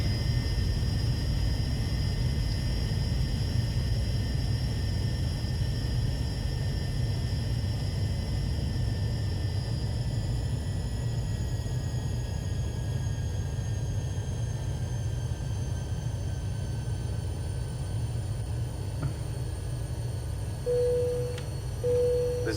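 Airliner taxiing in Cabin Crew Simulator, a video game: a steady, loud jet engine hum with a low rumble and high whining tones that drift slowly. A brief chime-like tone appears near the end.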